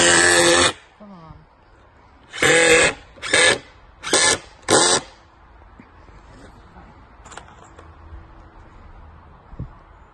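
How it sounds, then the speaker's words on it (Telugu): A power drill driving screws into wood during carpentry work, with five loud, close whirring bursts, one long and four short in quick succession, followed by quieter handling noises. "ఎందుకు మంజు అంత స్క్రూలు వేస్తున్నాయి?"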